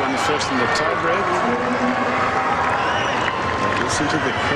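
A tennis crowd at the 2005 WTA Championships semifinal, Sharapova against Mauresmo, murmurs and stirs in the arena while a commentator talks over it, with scattered claps and cheers.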